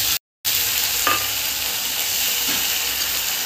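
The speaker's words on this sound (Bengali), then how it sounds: "এটাকে ভালো করে ভেজে নেব।" Ginger-garlic paste fries in oil with onions, garam masala, cumin and salt, giving a close, constant sizzle with faint scrapes of stirring and one brief dropout near the start.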